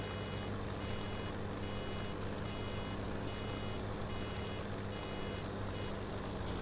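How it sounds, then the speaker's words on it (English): In Farming Simulator 17, a farm vehicle's reversing alarm pulses with evenly spaced high beeps over a dense, steady engine rumble. "That beeping is really, really annoying though"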